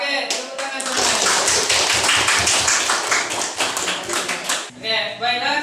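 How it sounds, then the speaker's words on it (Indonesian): A class of students claps hands together in a rhythmic burst of applause lasting about four seconds, with voices talking briefly before and after. "Oke, tepuk tangan semuanya."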